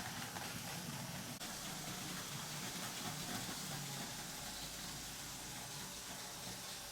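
A 1965 Märklin model steam locomotive runs around a layout, making a steady, close whirring hiss over a low rumble that goes on without a break. No one speaks.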